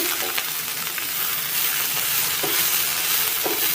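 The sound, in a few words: stirring bitter gourd frying in a pan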